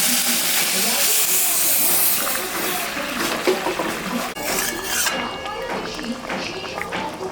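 Hot water poured into a pot of sizzling mutton curry gives a loud, steady steaming hiss that eases off after a few seconds, with stirring clatter behind it.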